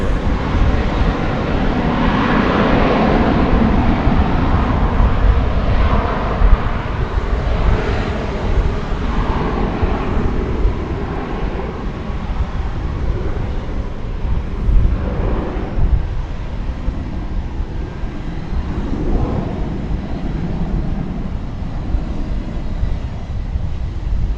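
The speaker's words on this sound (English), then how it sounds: "It's an Airbus A321." An American Airlines Airbus A321 at Dallas Fort Worth Airport roars with a loud, sustained jet engine rumble that swells and fades slightly over time, mixed with wind buffeting on the microphone.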